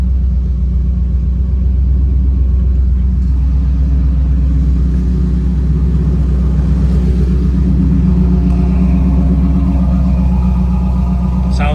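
A 1986 Chevrolet Camaro IROC-Z with a 5.0 V8 sits warming up, producing a loud, steady close rumble with a pulsing low throb that holds even for the whole stretch.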